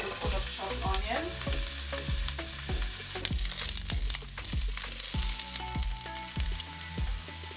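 Garlic and chopped onions frying in oil in a pan for red beans, with a steady sizzle close up and regular scraping strokes of a stirring spoon.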